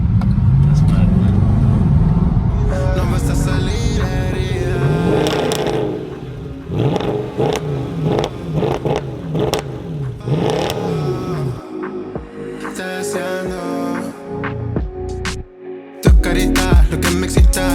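Car engine accelerating and revving hard, said to feel turbocharged, loud and close with rising and falling pitch sweeps, wind rush and brief gear-change dips throughout.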